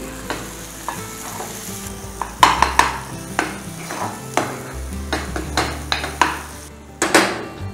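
Chili powder, garam masala and coriander powder being stirred into an egg mixture in a pan, with repeated scraping and clinking of a utensil against metal and a soft sizzle beneath, no talk.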